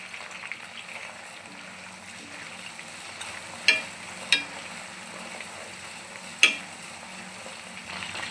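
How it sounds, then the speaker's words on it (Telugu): Curry leaves sizzle in hot oil on low heat while a herbal hair oil is made at home, a steady soft frying hiss with three sharp crackling pops partway through. "ఇప్పుడు వచ్చేసి కరివేపాకు వేస్తున్నాను"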